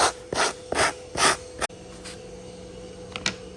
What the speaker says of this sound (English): We're basically just sanding the surface that we're gonna bond.